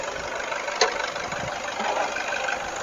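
A used car's engine runs at idle: a steady, even mechanical hum with a broad, hissy texture and one faint tick, heard close with no talking.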